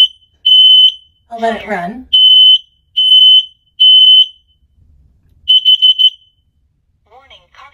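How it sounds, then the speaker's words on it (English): A Kidde battery-powered smoke and carbon monoxide detector runs its test cycle, giving loud, shrill, evenly spaced beeps, then a quicker burst of beeps, with a voice prompt and a person speaking briefly between them. "it goes through this whole cycle each time with the beeps as well as the voice prompts indicating fire versus carbon monoxide alarm"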